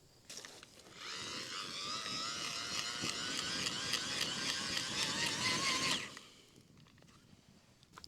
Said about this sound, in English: This little blower comes in handy.